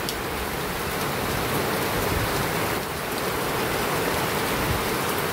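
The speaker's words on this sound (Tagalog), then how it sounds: "It's so strong rain, heavy rain today." Heavy rain pours steadily, a dense, loud hiss of drops hitting surfaces without pause.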